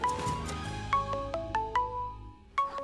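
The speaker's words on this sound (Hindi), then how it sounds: "घर से फोन है।" A phone rings with a melodic ringtone of repeated bright tones over a low musical bed, fairly clear and steady for a few seconds.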